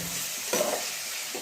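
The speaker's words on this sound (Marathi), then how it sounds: "आता याला पुन्हा एकदा प्रॉपर फ्राय करून घेतोय सगळे." Onion and mint masala rice fry in a pan with a soft, steady sizzle, close and fairly quiet, broken by a short scrape of stirring.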